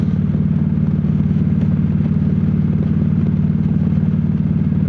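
Motorcycle cruising along a tree-lined road, its engine a steady, loud, unbroken drone with no voices.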